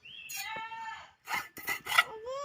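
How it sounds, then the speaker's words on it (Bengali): A carpenter cuts and levels wood for a pigeon coop, giving a few short, quiet rasping strokes, with high, voice-like calls just before and after. "কাইটা কাইটা আর কি সব কিছু সমান করতেছে মিস্ত্রি"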